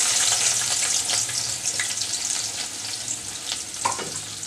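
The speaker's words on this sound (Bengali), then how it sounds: "পেঁয়াজগুলোকে একটু হালকা ভাজা করে নিব" Onions fry lightly in a little hot oil in a cooking pot, a close, continuous sizzle with crackling bursts and occasional stirring scrapes.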